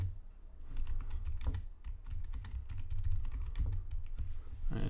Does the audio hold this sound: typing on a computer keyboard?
yes